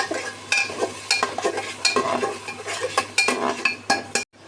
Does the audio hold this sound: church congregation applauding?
no